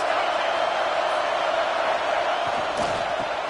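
Loud stadium crowd at a college football game roaring steadily in support of the defense, a dense sustained wall of cheering with a commentator talking over it.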